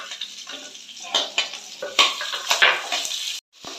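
Two medium chopped onions and a sprig of curry leaves fry in a pan with soft sizzling. Spoon and pan clatter and stirring scrapes recur in bursts until the sound cuts off near the end.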